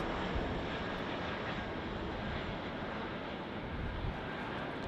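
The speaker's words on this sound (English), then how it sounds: "And the Delta heading over to San Francisco, cleared for takeoff." A Delta airliner takes off from LAX, bound for San Francisco. Its jet engines give a loud, continuous, broad roar that holds steady throughout, with no voices over it.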